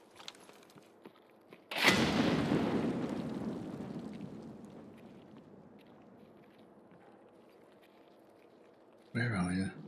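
An enemy frag grenade explodes in Escape from Tarkov, a single sudden loud blast followed by a long rumbling decay lasting several seconds, with a brief burst of voice chatter at the end.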